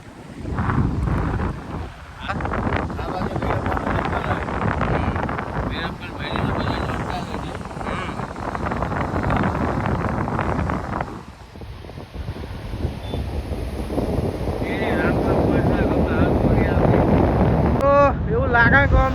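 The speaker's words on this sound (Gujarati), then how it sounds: "મસ્ત વાયરો આવે" Strong wind buffets the microphone beside a truck parked on a roadside stop during a long-haul drive from Surat to Kochi, a steady loud roar throughout with a brief dip midway.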